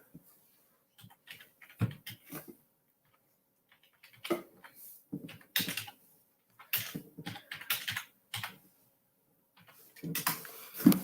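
Scattered bursts of keyboard typing tap out on a laptop, quick clusters of clicks separated by pauses, close and fairly quiet.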